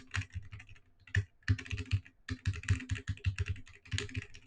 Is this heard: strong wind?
no